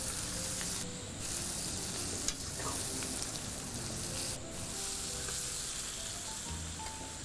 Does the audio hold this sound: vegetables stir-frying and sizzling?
yes